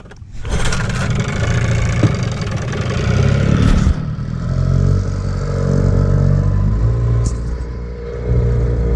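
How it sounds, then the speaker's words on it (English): Outboard motor on a DIY john boat with a small fuel tank, starting up with a sudden burst, then running steadily loud and close, its pitch shifting slightly as it settles and revs. "It's just got your fuel tank right there, powers your motor, and let's take it for a little spin."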